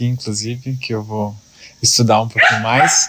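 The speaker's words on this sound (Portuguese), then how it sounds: "E tem um cachorro latindo aqui no fundo" A dog barks in the background of a podcast recording, with short sharp barks mixed under and between steady speech from a person talking nearby.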